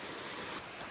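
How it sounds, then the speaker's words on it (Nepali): A mountain waterfall beside a trekking trail in Nepal roars as a dense, steady wash of rushing water, loud and close, with no voices over it. "झर्ना पनि खतरा छ"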